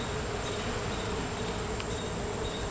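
Honeybees buzz around a hive in a steady, dense drone, with a few individual bees passing close against the continuous hum.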